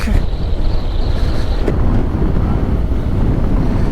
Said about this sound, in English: Still quite windy up here.